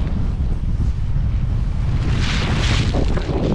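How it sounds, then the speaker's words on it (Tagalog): Strong wind blowing steadily, buffeting the microphone with a constant roar and gusts swelling louder near the end. "Ito nga ay mahangin"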